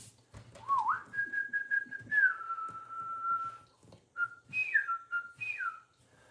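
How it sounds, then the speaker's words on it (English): A person whistles a call to feral cats living in a jungle-like area, a run of clear sliding and held tones with rising swoops, repeated in several phrases, loud and close with no talking. "I whistled my classic whistle."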